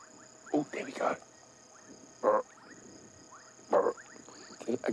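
A grey tree frog or foam nest frog calls at dusk on an African safari, giving short separate croaking bursts spaced a second or more apart over a faint steady insect hum.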